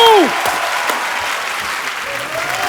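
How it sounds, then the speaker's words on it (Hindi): Audience applause fills the clip, a steady dense clapping from a crowd, with a brief falling tone at the start. "थैंक यू तालियां बजती रहे"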